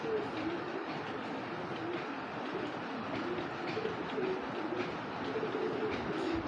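An adult male Army-breed pigeon coos repeatedly in low, rolling phrases over a steady rumbling background, moderately close.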